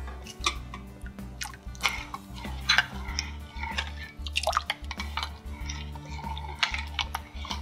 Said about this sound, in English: We're going to take some of the soup and add it to our eggs and mix it